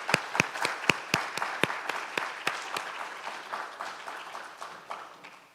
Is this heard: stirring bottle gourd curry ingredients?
no